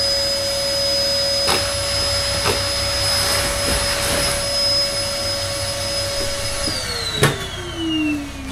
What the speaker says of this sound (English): So using the Hoover